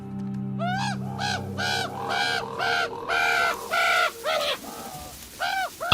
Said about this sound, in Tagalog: Heto na naman tong mga uwak na to.